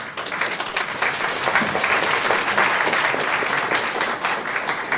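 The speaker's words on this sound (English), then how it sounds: "Would ask that you would kind of hold your applause" Applause breaks out in a city council meeting after a public commenter finishes, a loud, dense crowd clapping that holds steady for several seconds without talk.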